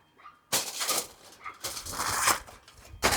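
A neighbour's dog whimpers and yips nearby in sharp bursts that start and stop over a few seconds, heard outdoors while a rotisserie chicken rests on the spit.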